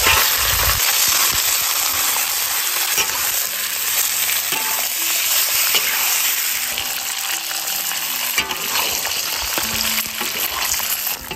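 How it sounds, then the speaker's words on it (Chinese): Pork belly frying in hot oil until browned for braised pork, a steady loud sizzle with scattered clicks and scraping of stirring throughout. "起锅烧油， 把肉倒进来炒至焦黄"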